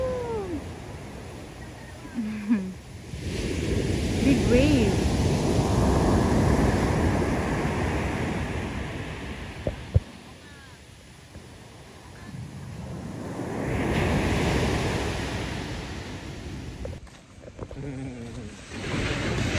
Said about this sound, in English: White Beach, Puerto Galera. Big waves.